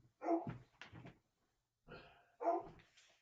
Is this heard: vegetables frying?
no